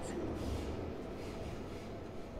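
Subway train riding in the video game Persona 5, a steady low rumble of rolling carriages and track noise, moderately loud and continuous.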